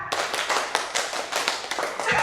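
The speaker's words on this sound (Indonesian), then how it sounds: "2 kali tepuk 4 ya" Two rounds of four quick claps from a group ring out nearby in a brisk, slightly ragged rhythm, with a faint voice near the end.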